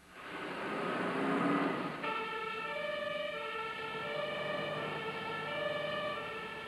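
A fire engine siren wails loudly and steadily as the fire brigade in Berlin races to a call, first as a dense broad sweep, then settling into layered sustained tones that hold for several seconds.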